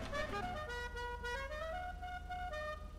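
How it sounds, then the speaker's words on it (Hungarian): Musical car horn in a racing video game, playing a bright sequence of sustained melodic tones that step through several pitches, loud and continuous over a low engine hum. "Musical horn."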